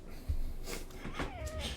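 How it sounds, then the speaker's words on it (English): A cat meows once in a woodland video game scene, a short rising-then-falling cry heard clearly over a low ambient drone. "Oh, there's a cat."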